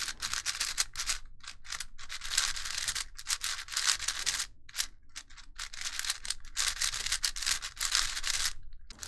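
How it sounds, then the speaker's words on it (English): A Vin4 V2 4x4 puzzle cube with a UV coating is turned in quick bursts, giving close, fast rattling clicks with short pauses between the turns. "Let's see how this version turns."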